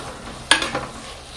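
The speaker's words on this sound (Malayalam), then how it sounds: "നന്നായിട്ട് ഇളക്കാം." Carp curry masala is stirred in a hot pan. One short scrape comes with a soft sizzle, close and fairly loud, then a weaker follow-up scrape over faint background.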